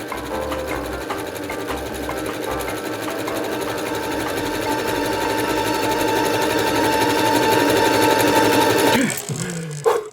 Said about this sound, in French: J'ai pas de surfileuse donc je vais faire un point zigzag des deux côtés.